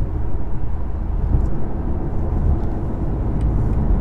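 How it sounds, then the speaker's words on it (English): A 2020 BMW M5 Competition cruising on the road, giving a steady, low, broadband rumble of road and tyre noise inside the cabin that holds even throughout, with no talk. "road noise is very low for a performance car."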